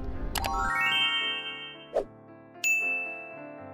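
Subscribe notification bell sound effect: a bright ding rings out and decays slowly, followed by two more short chime strikes, clear and alone with no talking.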